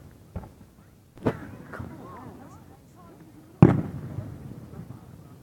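A fireworks display on the Isle of Wight in 2016 sends out a few sharp booms, one small, one stronger and a loud one later, with faint voices murmuring between the bursts.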